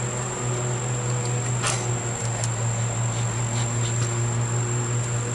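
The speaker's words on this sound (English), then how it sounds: "Oh, there's a lot of bees up here." Honey bees buzzing in an opened hive during an August inspection, a steady droning hum throughout with a few brief sharper buzzes passing close, no talking.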